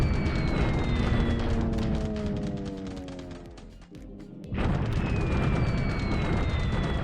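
Wartime bombing at Buna in a WWII strategy game: a dense, continuous roar of explosions with falling whistles, briefly dropping away before the rumble surges back, loud and without talking.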